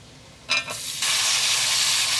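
Chopped tomatoes hit hot oil in a pan for sambar, giving a short clatter and then a loud, steady sizzling hiss that continues unbroken, with no voices.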